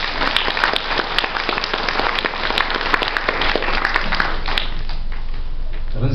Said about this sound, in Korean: 우리 3부 성가대 기악 연주하신 분들, 또 우리 3부 성가대님들 한번 격려의 박수 보내주시기 바랍니다